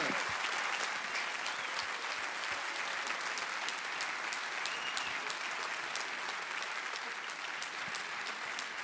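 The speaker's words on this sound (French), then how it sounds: "Et vous allez entendre toute une salle vous applaudir" A full hall of people applauding at a sports award ceremony, dense sustained clapping that stays even and fairly distant for the whole stretch.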